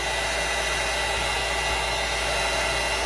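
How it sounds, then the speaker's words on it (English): A hair dryer blows steadily and close by, drying freshly colored Scotch tape, its broadband airflow roar holding constant throughout with no talk over it. "I have to literally dry it right away as it's on there."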